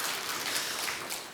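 Sustained group clapping from a church congregation at a Sunday morning service welcoming a member, a thick rain-like patter that softens slightly toward the end.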